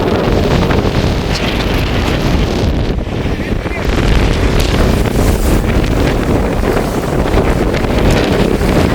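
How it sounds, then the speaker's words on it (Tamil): Strong wind roars steadily over a flooded island road, the Nainativu road in the Jaffna islands, where water washes across the surface; loud, continuous gusting buffets the microphone with surging water beneath, no speech. "பயங்கரமா வந்து காத்து நிக்குது."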